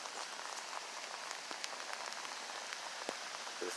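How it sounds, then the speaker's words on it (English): A light rain shower falls outdoors in nature, steady soft patter of drops on surfaces with scattered louder individual drips, quiet and continuous with no voices. "For the first rain shower."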